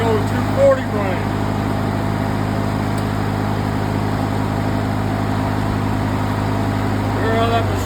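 A used welding machine's engine running at a steady, droning idle, close and constant, with a faint tonal whine and a brief bump near the start.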